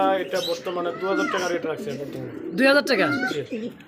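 Pigeons at a market stall where birds are sold with their eggs and chicks coo in soft, rolling, wavering calls close by, mixed with people talking.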